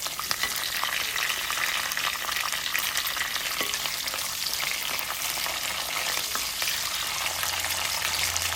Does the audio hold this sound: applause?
no